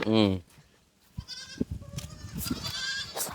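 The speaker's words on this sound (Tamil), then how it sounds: "என்ன ஆட்டுக்குட்டி பசங்க சாப்பிடுறீங்க" Young goats in a corn field let out a loud, close bleat at the start, then a fainter higher cry, while people talk over the rest.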